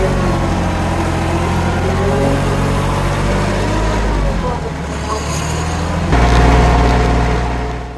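A tractor engine drones loud and steady while driving toward the front of a rural homestead property, a low rumbling throb that swells louder near the end, with music playing over it.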